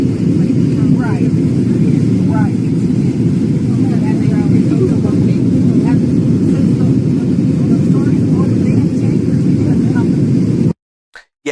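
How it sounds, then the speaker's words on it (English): A helicopter flies overhead with a loud, continuous low roar of rotor and engine, while voices talk over it throughout. "I guess this is somebody flying in a helicopter"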